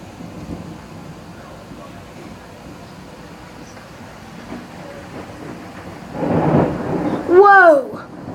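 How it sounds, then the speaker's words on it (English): Thunder rolls low and steady through a violent thunderstorm with rain falling, then swells into a louder crack and rumble near the end, followed by a rising vocal exclamation. "Now this is a severe thunderstorm."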